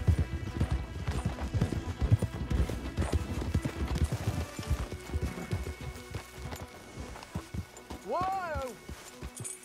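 Horse hooves clip-clop steadily at close range in Red Dead Redemption 2, a busy clattering rhythm, with a brief whinny near the end.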